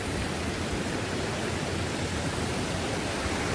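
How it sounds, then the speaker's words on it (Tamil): A waterfall flowing right beside a lodging at Megamalai gives a steady, dense rushing hiss, constant and even throughout, with no voices over it. "அப்படியே தங்கியிருக்கிறதுக்கும் பக்கத்துலேயே போகுது பாருங்க அருவி"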